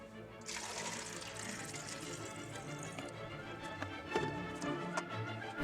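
Used film fixer is poured from a developing tank into a bottle, a soft continuous trickle and splash with a few light clicks and knocks near the end, close and fairly quiet.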